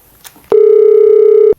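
Telephone busy-style tone after a call is hung up: a single loud, steady electronic beep lasting about a second, heard alone after a faint click.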